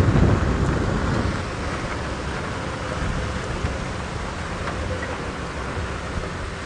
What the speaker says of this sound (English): There's definitely a serious wind that's kicked up all of a sudden.